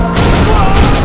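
Dense, continuous gunfire fills a Halo Reach solo campaign firefight at close range, loud and steady throughout with no clear gaps between shots.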